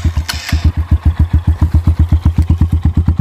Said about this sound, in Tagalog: yan guys, yung tunog ng tambutso.